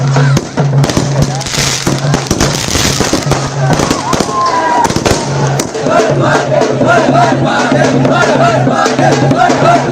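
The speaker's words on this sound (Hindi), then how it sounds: "लोग पटाखे फोड़ रहे थे," Firecrackers burst repeatedly during a Diwali celebration in Mehsana, India, with dense crackling pops over a loud, lively crowd, and a voice speaks over the din.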